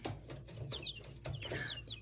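Young chicks in a brooder give repeated high, thin cheeps in short bursts, close by, over a low steady hum and some background rustling.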